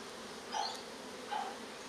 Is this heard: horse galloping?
no